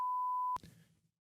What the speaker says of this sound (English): Beep, I beeped that.